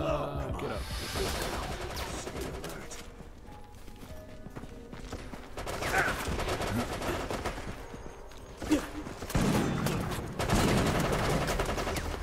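Resident Evil: Operation Raccoon City gameplay with scattered gunfire and impacts amid a busy game soundscape, irregular shots and a sharp crack near the end, with someone speaking faintly underneath.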